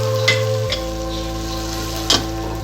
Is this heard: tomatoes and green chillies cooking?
yes